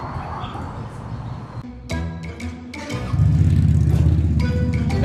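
QJMotor SRV 250 AMT motorcycle engine starting: a few clicks and cranking attempts, then the engine catches and settles into a steady low idle close by.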